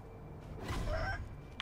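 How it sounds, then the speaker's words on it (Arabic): A rooster in the video game Sekiro lets out a single drawn-out, raspy cluck-like call, moderately near, over a quiet game backdrop with a short sharp sound at the end. "ايه الديك ده؟"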